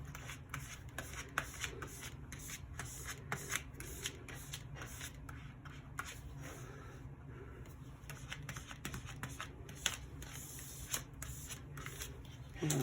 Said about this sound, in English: now let's mash down our stickers